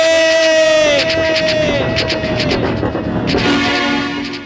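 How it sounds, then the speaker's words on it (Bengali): A train passing close by, with a long horn tone early on over rumbling wheels and clatter, amid crowd noise and people talking loudly nearby. "সরে যাও, ট্রেন আসছে।"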